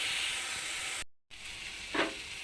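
Eggplant frying lightly in a pan gives a steady broadband sizzle that cuts out briefly, then resumes with a short louder hiss near the end, close and moderately quiet with no voices.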